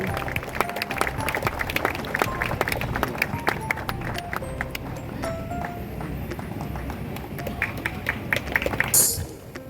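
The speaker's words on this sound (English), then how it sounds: "Let's give a loud applause to Anaya Silvera." Audience at a church celebration at St. Agnes applauding a confirmation class student award, steady dense clapping throughout with some crowd noise, ending in a brief louder burst.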